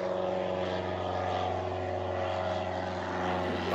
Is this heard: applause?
no